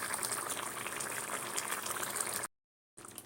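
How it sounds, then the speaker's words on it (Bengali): Masoor lentils with prawns, finished with garam masala and ghee, bubbling in a pot on a gas stove, a steady close simmering hiss that cuts off abruptly near the end. "এইভাবে রয়ে বসে ফুটতে দিতে হবে।"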